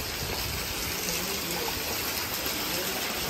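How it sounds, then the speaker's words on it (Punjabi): Heavy rain sends water gushing through narrow village lanes and overflowing small drains, a loud, steady roar of rushing water with no break. "ਲਓ ਜੀ ਬਾਈ ਫੁੱਲ ਭਾਰੀ ਮੀਂਹ ਪੈ ਰਿਹਾ"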